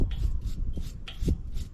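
Scraping stuck gasket residue and fibers off the rubberized back face of a Predator 8750 tri-fuel generator part, a close, repeated rasping rub in short strokes roughly every half second, with no talking.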